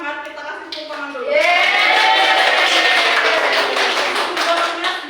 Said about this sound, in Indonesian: Untuk semangat kita kasih tepuk tangan dulu.